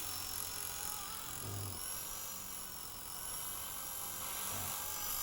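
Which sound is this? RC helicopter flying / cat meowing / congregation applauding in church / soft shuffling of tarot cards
RC helicopter flying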